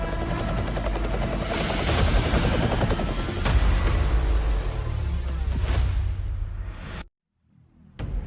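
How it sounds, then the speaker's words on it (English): Helicopter arriving for extraction in Call of Duty Mobile, a loud continuous rotor roar with whooshing bursts that cuts off abruptly near the end before briefly returning. "Helo inbound. 50 seconds to extraction."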